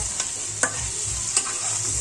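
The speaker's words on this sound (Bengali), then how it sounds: "এখন আমরা একটু সামান্য নেড়ে চেড়ে নেমে রাখবো" Red onion chicken curry being stirred in a pan, with a steady sizzle beneath a few sharp scrapes of the spoon against the pan, close and alone.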